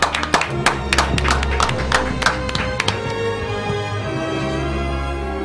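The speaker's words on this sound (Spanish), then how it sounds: "se lleva este aplauso y nuestro agradecimiento más sincero" An audience applauds a guest on a live talk show, with a burst of sharp, scattered claps over the first few seconds that thins out and fades, leaving a steady low hum beneath.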